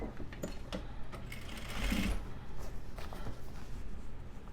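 Sewing machine stitching a pant hem, a steady close mechanical whir with rapid needle rhythm that runs continuously and swells briefly in the middle.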